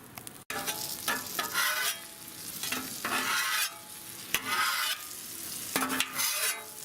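Chicken fries in hot oil on a Blackstone griddle, a steady close sizzle broken by scraping strokes of a spatula pushing the oil around.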